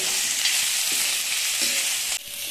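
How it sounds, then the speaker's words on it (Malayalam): Potatoes stir-fry with chili powder and curry leaves for a Chettinad-style dry roast, giving a loud, close sizzle with scraping stirs, then dropping slightly toward the end. "ഒരു അര ടീസ്പൂൺ പിരിയമുളകിൻ്റെ പൊടി ഒരു കളറിന് വേണ്ടിയിട്ട് കേട്ടോ കൂടെ രണ്ട് തണ്ട് കറിവേപ്പിനും കൂടി ഇട്ടിട്ട് ഒന്ന് മിക്സ് ചെയ്ത്"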